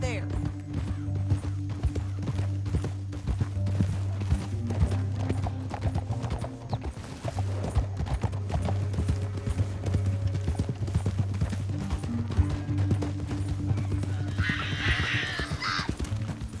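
Horses' hooves clip-clop steadily through a Red Dead Redemption 2 canyon ride, with a low droning music bed beneath and brief snorts, while voices speak over the action near the end.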